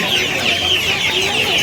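Several chickens cluck and squawk close by in a busy chorus at a poultry market in Uluberia, with a faint crowd murmur underneath.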